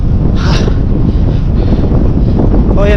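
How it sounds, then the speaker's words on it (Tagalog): Strong, steady wind roars across the microphone of a moving bicycle, a dense, continuous rush with no gaps. No voices are heard. "Grabe yung hangin."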